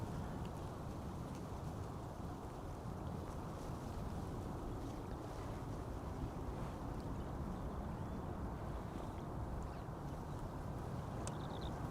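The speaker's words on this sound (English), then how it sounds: "Next up, Air Europa outbound to Madrid. Already spooling up." Boeing 787 Dreamliner jet engines of an Air Europa airliner spooling up at Schiphol Airport, a steady, dense roar holding at an even level throughout, heard from a distance.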